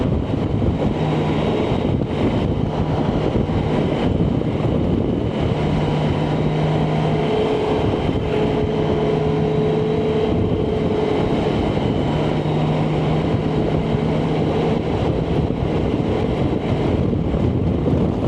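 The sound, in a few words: wind blowing during a BMW K1600 GTL motorcycle ride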